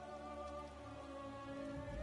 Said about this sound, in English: I could do without this damnable rain